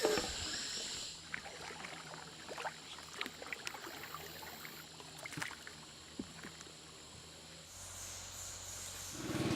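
Canoe out on a small river in the Amazon: soft paddle splashes and water trickling against the hull, with a steady hum and scattered knocks over a quiet, continuous bed of ambience.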